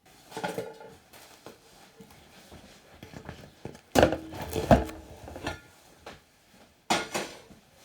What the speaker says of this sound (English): the 30-minute mark means you take the lids off the pots